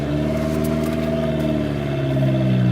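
A turbocharged Honda Civic engine drones steadily from inside the car, a constant low harmonic hum with faint turbo flutter bursts, close and continuous without talk.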